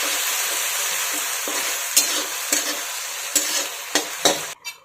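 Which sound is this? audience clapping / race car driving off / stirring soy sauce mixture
stirring soy sauce mixture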